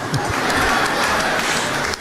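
Steady applause from an audience at a grant winner celebration, a continuous wash of clapping that fills the room before tapering off at the end.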